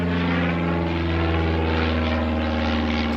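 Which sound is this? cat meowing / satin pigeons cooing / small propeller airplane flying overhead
small propeller airplane flying overhead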